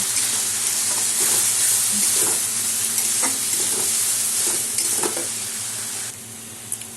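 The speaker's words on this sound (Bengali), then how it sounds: "সব একসাথে আমি এখন কষিয়ে নেব।" Cumin powder, chilli powder and a pinch of sugar sauté in a pan for Bengali chicken kosha, with a close, steady sizzle, frequent spatula scrapes and stirring clacks, quieting slightly near the end.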